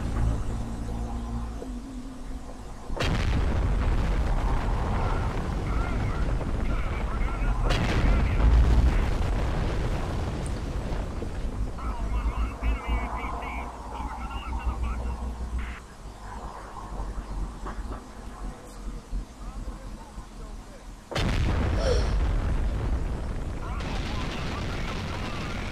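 Mech combat in the video game Steel Battalion Heavy Armor, with heavy booming gunfire and explosions rumbling in loud bursts, a voice talking over parts of the action.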